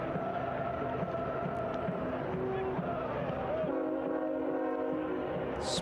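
A train passes near a soccer ground during a U.S. Open Cup match between Pittsburgh Riverhounds SC and Steel City, giving a steady rumble with sustained horn-like tones under continuous commentary and crowd noise.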